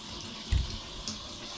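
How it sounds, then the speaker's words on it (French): A tap at a rustic island cottage on Malenge in the Togian Islands, Sulawesi, runs with a steady, faint hiss of water, with a brief low thump near the start. "je pense que c'est le seul robinet qui va marcher"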